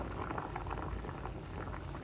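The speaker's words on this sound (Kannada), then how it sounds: "ಇವಾಗ ಕುದೀತಾ ಇದೆ" A pot of water with sweet corn in it boils steadily, a soft continuous bubbling and gurgling at close range without any voices.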